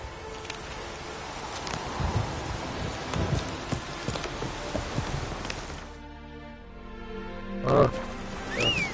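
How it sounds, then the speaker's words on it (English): Rain falling in The Witcher 3 video game, a steady hissing patter with a horse's clip-clop hooves underneath, cutting out for a moment before game sounds return near the end. "It's raining again."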